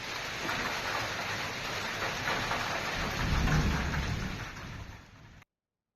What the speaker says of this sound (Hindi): उन्नाव की ये तस्वीर हम आपको दिखा रहे हैं, आसमान से जब ओले गिरे।